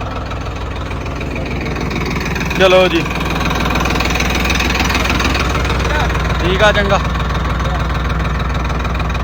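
A Farmtrac 60 tractor engine runs at a steady, throbbing idle with a slight knock, close and continuous the whole time, while people talk over it.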